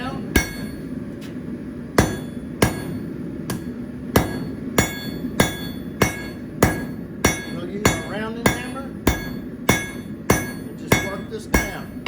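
Hand hammer forging a set down on the upper jaw of box jaw tongs at a blacksmith's anvil, about twenty sharp ringing metallic blows in a steady rhythm, close and loud over a low background hum.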